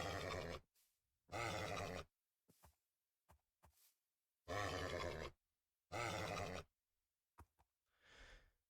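Horse sounds in the video game Minecraft: a few short, breathy neighs and grunts, separated by silences and small clicks, ending on a softer snort, with no talking.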